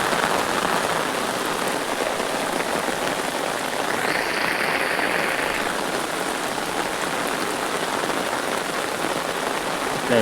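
Continuous rain pours down on a chili field in an even, dense hiss, with no voices and only a slight swell midway.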